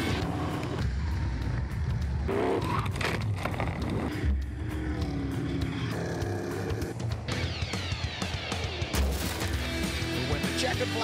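NWES stock cars race on the Valencia circuit: loud, continuous engine roar from several cars close together, with sharp bangs and rasping passes, and a commentator's voice faint underneath.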